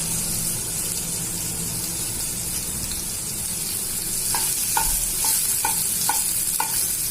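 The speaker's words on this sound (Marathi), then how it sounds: "टमाटे टाकतोय आपण" Tomatoes tipped into a hot frying pan for Maharashtrian zunka, giving a continuous loud sizzle with a few quick stirring scrapes near the end, with no voices.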